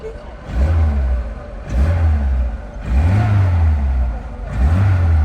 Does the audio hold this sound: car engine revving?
yes